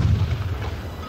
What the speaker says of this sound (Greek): Ρίχνει 3 κανονιές.